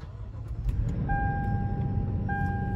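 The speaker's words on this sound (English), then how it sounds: "Let's go ahead and start it up." A 2015 Lexus LX V8 turns over and settles into a smooth, low idle, steady and close, with a faint electronic chime sounding twice inside the cabin.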